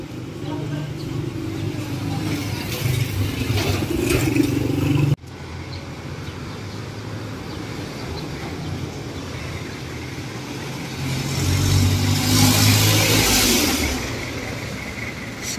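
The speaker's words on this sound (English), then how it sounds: "Jeepneys are speeding down the road. Cars are speeding down the road." Passing jeepneys and cars rush along a city road in a school zone, a loud continuous traffic roar with engine swells and one vehicle growing louder toward the end, someone talking over it.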